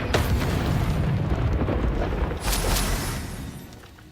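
A Stupefy spell blast from Hogwarts Legacy, played on a high difficulty setting, fills the clip as a loud, sustained roaring burst with a second surge midway before it fades out.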